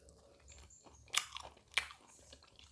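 Someone chews a piece of boiled meat while tasting, close and quiet, with two crisp crunchy bites among soft wet chewing sounds.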